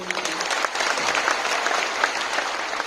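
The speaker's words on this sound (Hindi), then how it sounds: "जोरदार तालियां हो जाए एक बार।" Enthusiastic audience applause at a Modicare program gathering in Patna. Dense clapping runs steady and fairly loud through the whole moment, with a hint of voices underneath.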